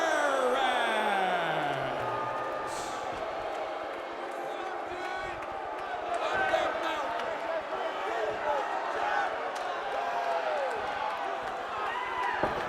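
Arena crowd at a TNA wrestling event reacting loudly to NWA Heavyweight Champion Jeff Jarrett and his challenger, a sustained roar of cheers and shouts that swells mid-way, with a commentator talking over it.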